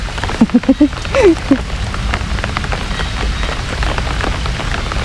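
Steady rain patters densely on surfaces outdoors in rural Thailand, a continuous loud hiss, while someone speaks briefly over it at the start.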